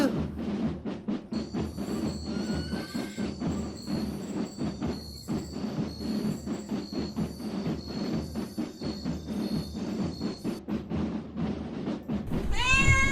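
A cat meows repeatedly over a steady low rumbling background, with a sharp rising squeal near the end.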